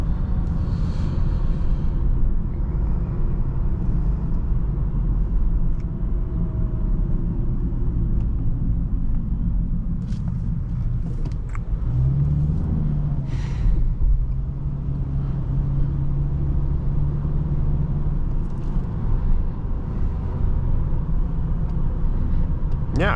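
A 2016 Honda Accord Sport with a 2.4 engine in sport mode pulls under throttle, its steady engine drone and road rumble heard from inside the cabin, loud and continuous, with a slight rise in tone partway through.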